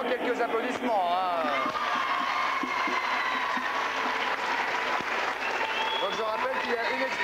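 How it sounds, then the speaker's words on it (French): Studio audience applauding at a French TV talk show, steady broadband clapping filling the whole stretch with voices and whoops mixed in. "Ça mérite évidemment quelques applaudissements"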